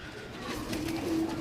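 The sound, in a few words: pigeon cooing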